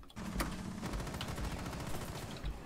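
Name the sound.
gunfire in Rainbow Six Siege video game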